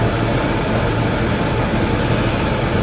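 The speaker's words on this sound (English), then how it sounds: "lapping machine." A 24-inch Kemet lapping machine running, a loud, steady broadband mechanical whir and hiss with a low hum underneath, constant and close with no speech.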